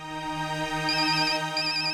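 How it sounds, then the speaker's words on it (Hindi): A phone ringtone plays steadily for the full two seconds, a sustained electronic tone with a bright high melody line entering midway, moderately loud and alone. "ऑफिस से फोन है, मुझे जाना होगा।"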